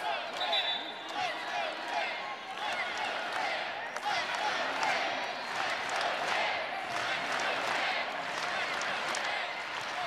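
A home crowd at a 2022 ACC college volleyball match between Georgia Tech and Pittsburgh cheers and shouts steadily, a broad, loud arena roar lasting throughout, with scattered claps and a few voices.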